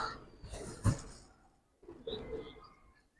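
Giribaj pigeons at a Bangladeshi pigeon sale, soft throaty coos in two short bursts close by, with a brief knock between them and quiet gaps.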